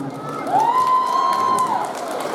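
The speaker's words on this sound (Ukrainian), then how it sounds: "Оплески Славіку." Audience at an Independence Day concert and contest on stage in Chervonohrad cheers and applauds for a contestant, a steady crowd roar with a sustained whistle-like tone running through the middle.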